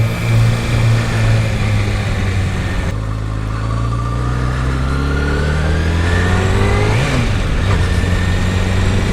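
A motorcycle engine revs up and rises in pitch, then drops away as the rider brakes hard during stoppie practice in an open lot, the loud engine tone sweeping up and down continuously with no voices.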